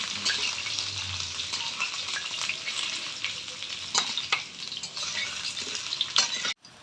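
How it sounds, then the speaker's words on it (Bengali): Potatoes fry in a pan at an outdoor New Year picnic, giving a steady close sizzle with scraping stir strokes and a few clinks before the sound cuts off abruptly near the end. "আলু ভাজা হয়ে গেছে, এখন আলুগুলা নামাই দিই।"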